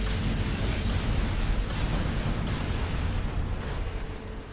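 A shock grenade detonating in a PS3 game gives a sustained loud, dense roaring blast that fills the whole moment with no pauses or voices.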